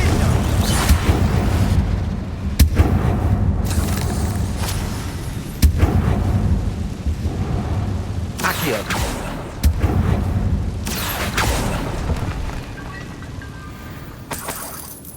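Spell blasts in the Hogwarts Legacy video game: a loud series of sharp explosive bursts and crackling impacts recurring every few seconds over a dense rumbling game soundscape.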